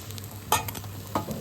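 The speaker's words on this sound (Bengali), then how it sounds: "বাকি বড়াগুলো ওই একইভাবে আমরা ভেজে নেব।" Lentil vadas for dahi vada frying in hot oil in a kitchen, a soft continuous sizzle with a low steady hum and a couple of brief louder bursts as the pieces are moved.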